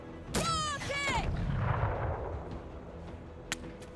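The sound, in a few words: rocket launcher firing in the video game Menace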